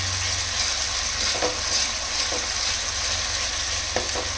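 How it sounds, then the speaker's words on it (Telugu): Ginger garlic paste frying with onions in a pan for chicken fry biryani, a constant close sizzle with occasional stirring clicks against the pan and no talking. "ఈ అల్లం వెల్లుల్లిపాయ పేస్ట్ పచ్చివాసన పోయే వరకు ఫ్రై చేసుకోవాలి."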